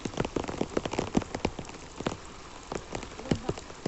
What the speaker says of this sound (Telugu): ఇంతలా వర్షం వస్తున్నా రైతు పారబట్టుకొని చేలో తిరుగుతున్నాడు